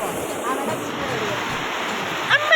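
Rushing water at a waterfall on a college trip, a steady broadband roar filling the scene with a brief splash or knock near the end, close and fairly loud.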